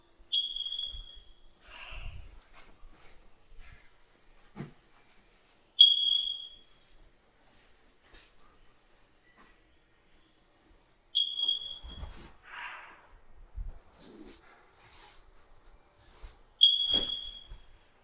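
Smoke detector chirping alone in a quiet room: four short, sharp, high-pitched electronic chirps spaced about five seconds apart, with faint handling noises in between.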